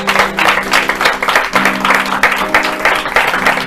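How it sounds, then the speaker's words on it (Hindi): Congregation in a church service clapping for Jesus, a steady dense applause with some musical tones underneath, close and fairly loud throughout. "Give a mighty clap to Jesus."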